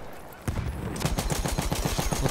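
Rapid, loud bursts from an M1909 Benét-Mercié machine gun in the video game Battlefield 1, a steady stream of close shots that runs on past the first half second.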